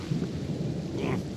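Video game rain and thunder in a Skaven setting: a short burst of steady rainfall with a low rumbling roll of thunder, fairly loud and with no voices over it.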